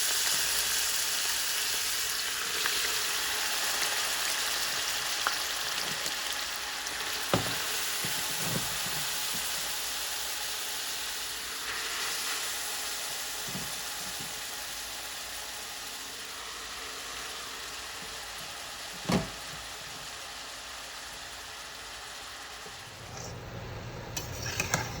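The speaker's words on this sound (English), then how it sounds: "Then add shredded carrots and stir them until the carrots start to change color" Shredded carrots fry in ghee with cardamom powder, a steady close sizzle lasting throughout, broken by a few soft clinks and scrapes of stirring.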